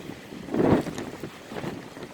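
Wind gusts outdoors buffet the microphone as a low, rushing rumble that swells and eases with no voices.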